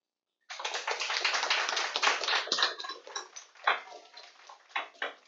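Online course audience gives a round of applause, a thin continuous patter of clapping lasting about five seconds with uneven swells and no voices over it.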